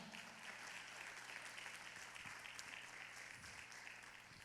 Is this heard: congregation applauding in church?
yes